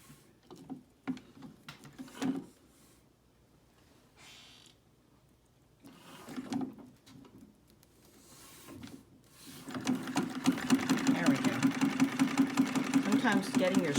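An antique Singer treadle sewing machine is started with a few halting bursts of mechanical whirring and creaks, then settles into a steady, close, rapid ticking stitch rhythm.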